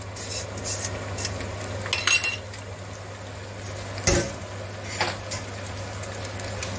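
A fork stirs pasta in a pan with lardons and salmon, giving a few sharp metallic clinks and scrapes spaced over several seconds above a steady low kitchen hum.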